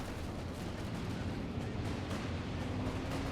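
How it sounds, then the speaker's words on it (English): Calliope rocket artillery barrage in Company of Heroes, a dense continuous rumble of rocket fire and distant blasts filling the whole stretch at a steady level, with no talk over it. "We have Calliope fire coming in."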